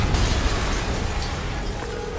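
A loud explosion in the Spider-Man PS4 video game starts with a sharp burst, then settles into a sustained rumbling roar that slowly fades.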